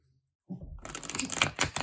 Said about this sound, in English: Let's see how it shuffles.